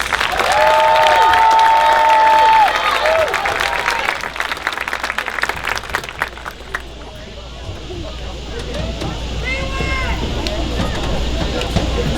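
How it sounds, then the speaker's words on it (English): Applause rings out at a 2020 high school graduation ceremony, a loud burst of clapping that fades to scattered claps and crowd murmur, with a voice over the loudspeaker at the start. "Round of applause for row 6."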